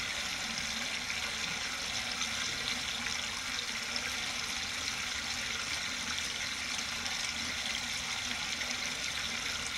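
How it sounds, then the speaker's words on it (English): Clear water in Florida pours steadily over and under a small dam, a constant broadband rush heard close and loud with no pauses or voices. "So the water's flowing on both the top and the bottom."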